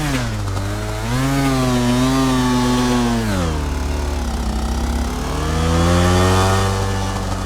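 A two-stroke motocross bike in the MX Bikes racing game gives a loud, raspy, buzzing engine drone that rises and falls as the revs change, steady and continuous with no talking.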